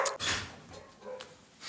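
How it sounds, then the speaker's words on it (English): Dogs barking indoors in a room, a few sharp barks in short bursts with gaps between, fairly close and moderately loud. "Who are you barking at?"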